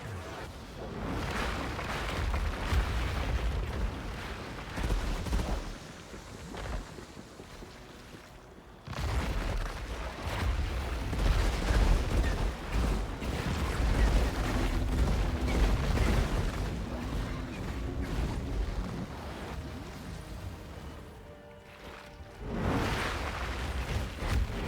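Rapid gunfire and booming impacts from the hero shooter game Marvel Rivals, loud and dense, with a brief lull near the middle before the shooting resumes and continues.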